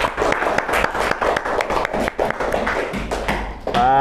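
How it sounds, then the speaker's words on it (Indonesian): An indoor audience of students in a classroom claps in rapid, loud, irregular applause that continues throughout, with a short voice and tonal sound at the very end. "Oke, betul, beri aplaus."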